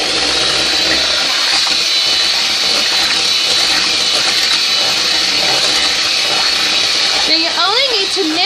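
A loud electric mixer whirs without a break while beating pumpkin pie filling in a bowl, with a slight wobble in its pitch toward the end.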